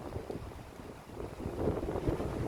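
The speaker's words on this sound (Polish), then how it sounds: "Straszny wiatr tutaj jest" Strong wind buffets the microphone in a continuous roaring rumble after a night storm, gusting louder toward the end, with a faint wash of rough sea beneath.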